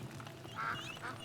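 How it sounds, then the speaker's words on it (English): Ducks kept in a cage in the video game Soulframe give a couple of short, fairly faint quacks over a low background ambience. "I hear a duck. He's got ducks in the cage."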